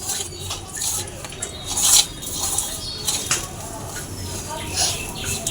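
Wet squelching and soft scraping of spiced batter with black cumin and Kashmiri chilli being mixed with water in a bowl by hand, steady and close with a few louder clicks.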